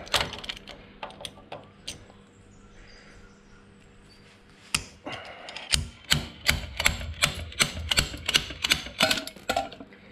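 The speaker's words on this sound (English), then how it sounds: "We want to rip that inside cage" Multi-grip pliers tearing the inner roller cage out of a wheel bearing on a Toyota FJ40 semi-floating rear axle, giving a run of sharp metallic clicks and snaps that start sparse and grow into a dense, loud, rhythmic burst of cracks.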